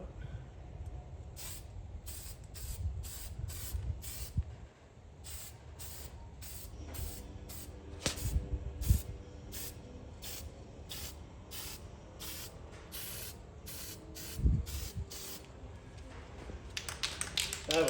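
Short hissing bursts from a spray paint can repeat in a regular rhythm as a second coat goes onto a 1978 Corvette steering column, close and fairly loud, with faint handling knocks between sprays.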